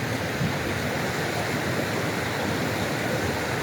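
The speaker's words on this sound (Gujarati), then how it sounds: "આ સરસ કાલી નદી છે." The Kali river rushes along the mountain route toward Om Parvat, a loud, continuous roar of flowing water filling the whole moment without a break.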